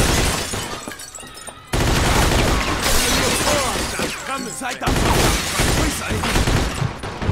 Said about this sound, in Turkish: bunlar uzun namluyla mı sıkıyor la?